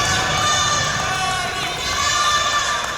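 Crowd at a wrestling show, continuous loud cheering and shouting from many voices with whistle-like calls and chanting, sustained throughout.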